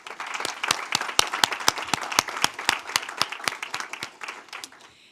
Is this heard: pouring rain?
no